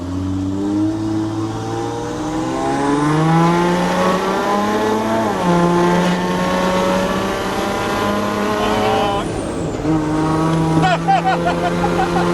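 An OM606 diesel engine in a Land Rover revs hard at full throttle, pitch climbing through gears with brief drops between shifts, loud and close, running strong for several seconds.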